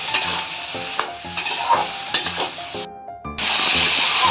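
Vegetables frying with turmeric powder and salt give a loud, steady sizzle while a utensil stirs and scrapes against the pan in repeated strokes. A brief pause is followed by the sizzle surging back.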